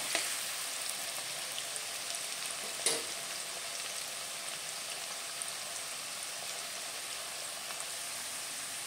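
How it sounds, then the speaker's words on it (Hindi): Finely chopped onion fries in a pan toward golden brown, a constant even crackling sizzle, close and steady throughout, with a couple of small clinks early on and no voices. "गोल्डन ब्राउन करायचा आहे आपल्याला कांदा।"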